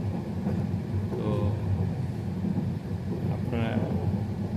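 Steady low rumble and rattle of a moving train heard from inside a carriage on the Dhaka to Cox's Bazar rail route near Narsingdi, continuous throughout, with a couple of faint, brief higher calls or voices over it.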